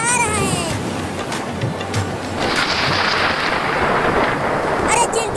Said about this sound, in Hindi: देखो कितना बादल गरज रहा है।